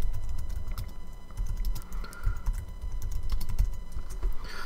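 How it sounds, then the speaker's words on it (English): Rapid typing on a computer keyboard, dense irregular clicks and key taps close to the microphone over a low background hum, continuing for several seconds with no speech. "I need to type something, and the noise is just going to be awful"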